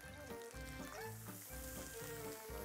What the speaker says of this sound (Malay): kita masukkan bawang yang kita dah potong ni ke dalam kuali